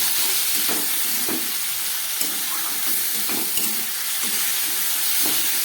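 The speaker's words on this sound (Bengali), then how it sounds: "ধনে পাতাটা দিয়েই এই সবজিগুলোকে আর একটু কষাবো।" Vegetables and spices with fresh coriander leaves sautéing in a pan for a light fish curry, giving a steady broadband sizzle and hiss with occasional soft stirring scrapes, close and continuous, no talking.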